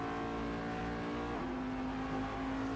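A race car passes on the Road Atlanta circuit during a six-hour endurance race, its engine a loud, sustained harmonic drone whose pitch sweeps down midway as it goes by close, then holds steady.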